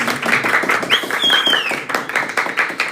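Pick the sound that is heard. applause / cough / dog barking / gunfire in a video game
applause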